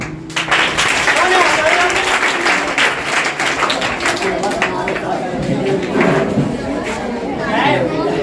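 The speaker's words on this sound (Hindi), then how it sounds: "तालियां बजा दीजिए, तालियां बजा दीजिए।" Crowd applause at a general knowledge quiz competition begins abruptly and continues as a dense wash of clapping, mixed with chatter and a voice talking over it.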